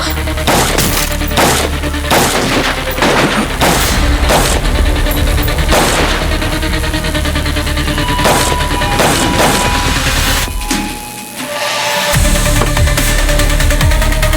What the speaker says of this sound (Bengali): এখান থেকে পালাও, এই গুলি চলছে।